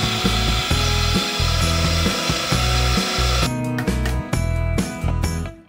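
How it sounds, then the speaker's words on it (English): Drilling and flat end mill machining of a bore in aluminum for a scale RC excavator hydraulic pump, a loud steady grinding cut with a repeating rhythmic low throb and scraping metallic overtones, heard alone and up close. "I also needed to use a flat end mill of the same diameter to flatten it"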